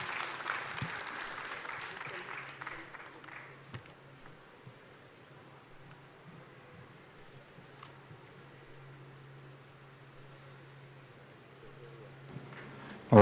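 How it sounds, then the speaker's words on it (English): Applause at a tourism resilience day event for an MOU signing between two governments, a soft patter of clapping that quickly thins into quiet room ambience with occasional rustles. "let's appreciate that moment with beautiful claps, marking the MOU signing of the two governments"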